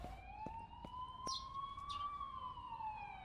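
A wailing ambulance siren in the video game The Coma, a steady rising and falling tone with faint clicks and thumps over it.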